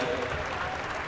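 A roller derby crowd at a playoff game applauds the host team, a brief burst of steady clapping from the stands.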